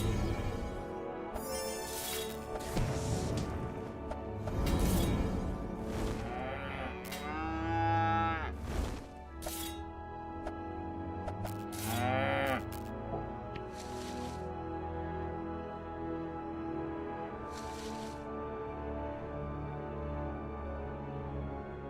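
Cattle lowing in the video game Project Gorgon, several drawn-out moos in succession, fairly close and clear against a quiet game background with no talking.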